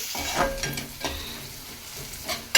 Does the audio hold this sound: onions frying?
yes